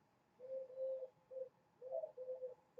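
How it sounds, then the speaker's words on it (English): A dove cooing outdoors, a series of soft, low hollow notes in short phrases with brief pauses, fairly faint and alone, no voices. "Can you hear the dove cooing?"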